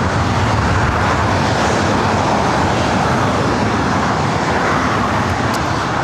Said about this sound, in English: This flight heading to Santa Rosa, California, Alaska SkyWest, flight 3391 and E175.